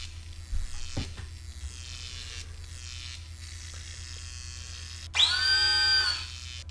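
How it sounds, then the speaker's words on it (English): A microscopic drill in the Star Trek 25th Anniversary game cuts through a panel seal. A faint electronic whir runs under low hum, and a louder, steady high-pitched buzzing tone follows for about a second near the end. "The drill easily breaks through the seal of the panel."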